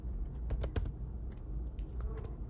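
Keys on a computer keyboard are tapped in a quick, uneven burst of clicks, close and clear, as a word is entered into a search field.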